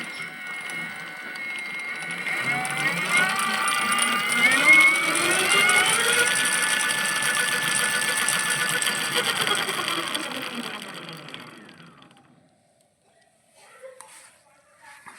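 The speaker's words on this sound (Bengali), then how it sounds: "দেখুন মোটরটা ঘুরবে কি করে" Homemade electric scooter with a 750W motor and 48V lithium battery, wheel spinning freely at high speed: a steady whirring whine that rises and falls in pitch, running loud for about twelve seconds before cutting out to near silence.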